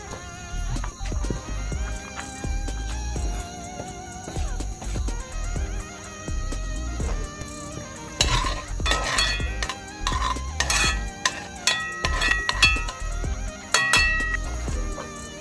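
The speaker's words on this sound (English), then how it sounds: "Add some oil to our pot. Gonna saute some garlic." Garlic sautéing in oil in a pot for Jamaican-style curry lobster, with a soft sizzle under repeated stirring, spoon scrapes and metallic clinks against the pot, growing busier toward the end.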